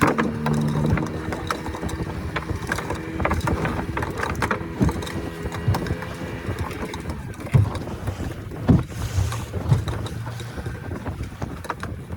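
A fishing boat tows a net while fishing for mackerel, giving a constant rumbling mechanical drone with wind buffeting, rattling and occasional knocks. It is loud and continuous with no speech.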